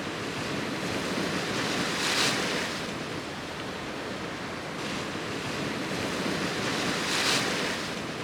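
Rough sea waves surge at high tide along the rocky shore of Amber Rock Park in Jamaica, a steady roar with two louder breaking crashes and wind buffeting the microphone.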